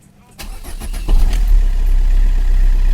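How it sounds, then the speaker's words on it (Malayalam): A car engine is started with the clutch pressed: a short cranking burst, then the engine catches with a louder surge and settles into a steady, close, low idle. A voice briefly overlaps the start. "വണ്ടി സ്റ്റാർട്ടാക്കാൻ പോവുകയാണ് ഇനിയും നമുക്ക് ക്ലച്ച് ചവിട്ടി സ്റ്റാർട്ട് ചെയ്യാം"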